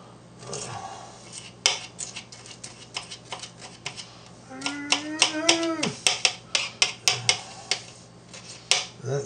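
A knife chops food on a cutting board in a home kitchen while guacamole is being made, a run of quick, crisp, evenly spaced taps up close, with someone talking between cuts.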